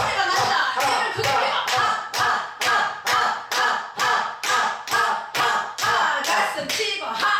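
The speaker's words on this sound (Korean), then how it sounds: "큰 소리로 박수 치며 웃어보도록 하겠습니다" A lecture audience at a laughter workshop claps loudly in a fast, steady rhythm of about two claps per second while laughing, close and full throughout.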